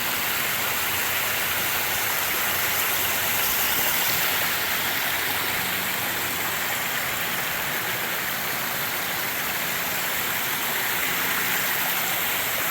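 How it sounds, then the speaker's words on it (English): Small waterfall tumbling down beside a hiking trail in a wooded valley, a loud, constant rushing splash of falling water heard close up, steady and unbroken throughout. "Looks like we got a little waterfall coming down here."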